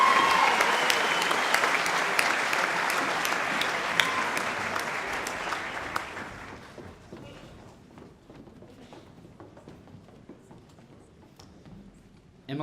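A high school graduation ceremony audience claps for Year 12 graduates, loud sustained applause for about six seconds that then thins out into scattered, fading claps.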